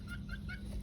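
A few short, quiet clucks from a chicken being fed watermelon rind, spaced about evenly over a low background hum.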